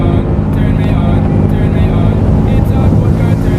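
A Honda ADV160 or Yamaha NMAX scooter engine revs hard at high RPM on a dark road, a loud, steady drone with wind buffeting the microphone throughout.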